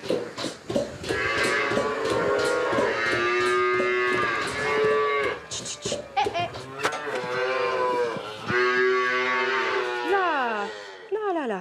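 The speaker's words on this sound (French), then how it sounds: "On a en face de nous des veaux, mais ces veaux vont grandir pour être les futures vaches du troupeau" Calves on a French farm, young animals being raised as future cows of the herd, moo repeatedly in long drawn-out calls that overlap one another, loud and close, almost without pause throughout.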